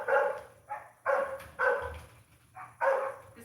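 A dog barks at a visitor arriving at the house, five or six loud, sharp barks in an uneven rhythm with brief pauses, close by and with no voices over them.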